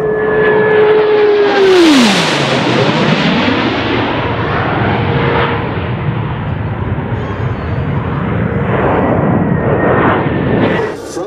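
Blue Angels jets roar past in an opposing knife edge pass at an air show at NAF El Centro, a loud close flyby with a sharply falling pitch that fades into a long rumbling wash.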